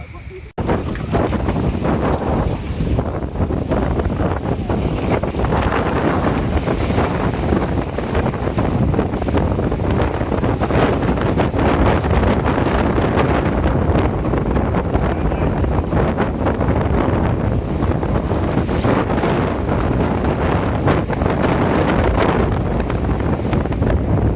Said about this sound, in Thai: ลมแรงมากใช่ไหมครับ